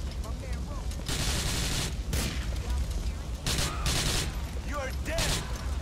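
Gunfire in Grand Theft Auto 4: The Lost and Damned, with bursts of rapid shots and loud cracks coming in uneven clusters over a constant rumbling game background.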